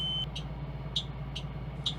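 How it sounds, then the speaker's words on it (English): A school bus emergency window buzzer sounds in short repeated bleeps, several brief electronic tones spaced roughly half a second apart over a steady low engine hum. "making sure that it opens and closes smoothly, it latches securely, and that the emergency buzzer sounds."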